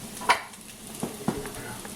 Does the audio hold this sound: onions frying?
yes